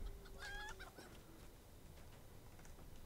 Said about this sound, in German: Hühner legen auch weiterhin Eier für das Dorf